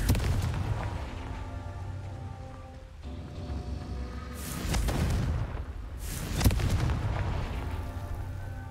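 A Confringo explosion spell in the Hogwarts Legacy video game goes off as two loud, rumbling booms a couple of seconds apart, each swelling and fading over a low, continuous background.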